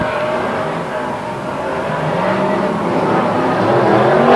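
Stock cars start a speedway race, a loud roaring pack of engines revving and building steadily close by, with a commentator talking over the noise.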